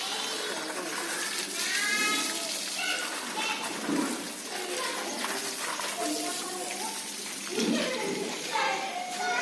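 Children play outdoors in a loud, lively stretch of overlapping kids' voices and shouts. Splashing water runs through it and an adult voice talks over the top.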